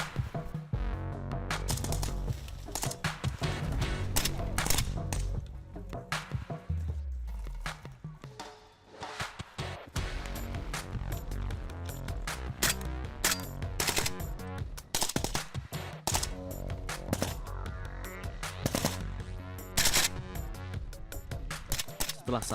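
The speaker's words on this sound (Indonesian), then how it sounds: "Siswa berlari menuju perbukitan sasaran sembari menembakkan senjata." Soldiers running toward hilltop targets while firing weapons in a naval special forces training exercise, with dense rapid bursts of gunfire cracking over a busy mix of sound throughout.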